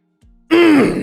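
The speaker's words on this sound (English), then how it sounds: "I just realized I went to clear my throat right in front of" A loud, harsh throat clearing right up close to a microphone, a single rough rasping burst preceded by a brief intake of breath.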